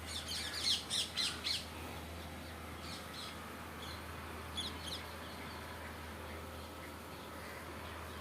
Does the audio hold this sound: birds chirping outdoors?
yes